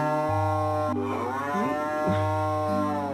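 A cow in the farming game Harvest Moon: Grand Bazaar gives a long, loud, close moo that bends in pitch over a steady game music backdrop, with no talking.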